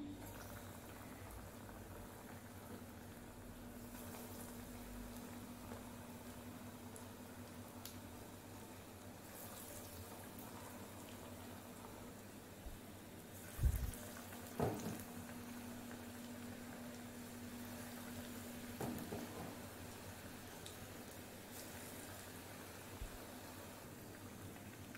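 Spoonfuls of kara bonda batter frying in hot oil on a medium flame, a faint steady bubbling hiss with a few brief clicks and knocks midway, quiet and close.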